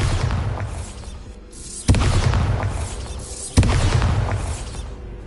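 Bombarda spell explosions in the video game Hogwarts Legacy, two sharp booming blasts about two seconds apart, each followed by a rumbling, crackling tail over a dense game soundscape.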